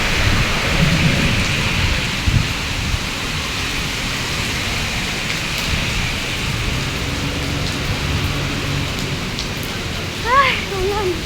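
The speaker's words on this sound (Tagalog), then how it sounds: "Ay, ulan." Heavy rain pours steadily onto surfaces outdoors, with low rumbles of thunder rolling beneath the dense hiss throughout, close and loud.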